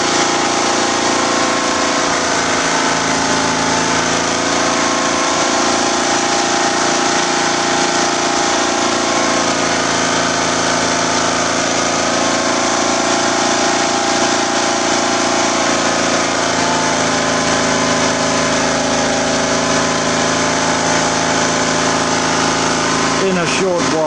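An engine-driven generator runs steadily at speed with a constant droning hum and mechanical whine, close by and loud throughout, with a person talking over it at times.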